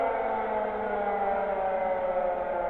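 A civil defense siren wails as a steady, sustained droning tone, fairly loud and unbroken, with no talking over it.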